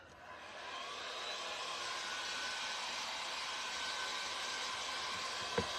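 A hair dryer runs at close range, drying a shoe heel during a thrift store shoe makeover, an even, airy whoosh that holds steady for several seconds before a brief click at the end.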